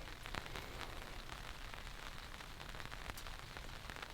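Steady rain patters on the canvas of a heated tent during a wet wild-camping morning, forming a soft, even hiss with scattered close drops and no voices.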